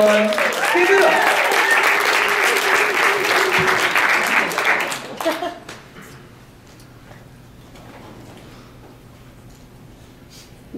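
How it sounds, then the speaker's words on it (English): A live audience at a comedy show claps and cheers loudly for about five seconds, then the applause stops abruptly, leaving a quieter room with faint talk. "Clap it up for Kill Word, everyone."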